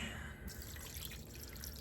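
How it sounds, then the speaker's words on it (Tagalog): Water pours and splashes into a pot of beef ribs asado with bay leaves in a short, continuous trickling stream, heard fairly quietly and close by. "So lagyan natin ng tubig."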